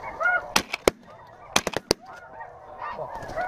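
Snow geese, including a small Ross's goose, honk during a goose hunt, with repeated calls through the clip and a few loud, sharp shotgun blasts in two quick clusters.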